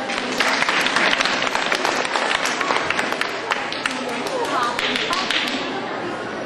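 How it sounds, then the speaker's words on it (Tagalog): Audience applause for a debate speaker at a Grade 6 Balagtasan for Araw ng Wika, sustained dense clapping from a crowd filling the whole stretch, steady and loud with some crowd murmur. "Pasalubungan siya ng palakpak at papuri"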